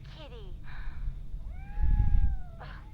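A cat gives a few drawn-out, wavering meows close by, one sliding cry after another, with a person talking over part of it.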